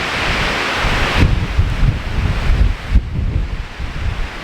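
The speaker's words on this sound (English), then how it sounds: "Right on top of the waterfall, which is just over there." Roaring water from the Eas Mor waterfall at Kildonan after heavy overnight rain, a steady broadband rush heard close by with some wind buffeting the microphone.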